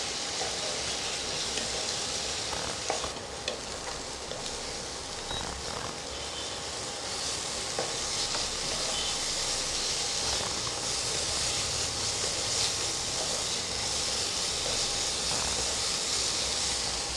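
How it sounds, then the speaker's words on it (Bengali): Spices frying in mutton fat for chana masala, a steady, continuous sizzle with soft crackles throughout, close and fairly loud with no talking. "এবার ভালো করে কষাবো যতক্ষণ না মশলার থেকে তেলটা ছাড়ে"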